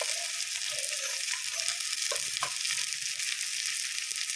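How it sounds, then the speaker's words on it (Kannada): Onion and drumstick fry in hot oil with a steady, even hiss, broken by a few soft stirring sounds, and no voices. "ಎಣ್ಣೆಗೆ ಫ್ರೈ ಆಗೋದು ಸ್ವಲ್ಪ ಸದ್ದಿಗೆ ಬರ್ತದೆ"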